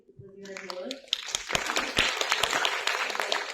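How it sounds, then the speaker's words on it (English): An audience at a college workshop on mental health breaks into applause, starting quietly and swelling into dense, sustained clapping that fills the room, with a voice speaking at the start. "first you need to applaud for yourself, everybody, because you are here"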